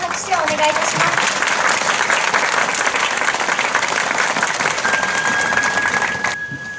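An audience at the eve-of-tournament celebration of the Emperor Tenji Cup hyakunin isshu karuta competition in Asakura gives loud, sustained applause that fills the room, then fades out near the end.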